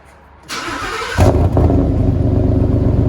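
A Ford F-150 with a 5.0L Coyote V8, muffler and resonator removed and Dynomax race bullets fitted, cranks briefly, then fires into a loud, deep exhaust rumble that settles into a steady throbbing idle, heard up close.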